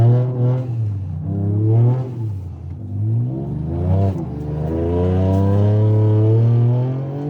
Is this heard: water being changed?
no